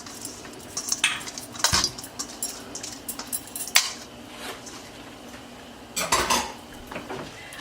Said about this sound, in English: you're going to just throw the pasta in there and mix everything up together